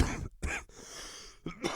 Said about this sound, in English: Yeah, I had a cough.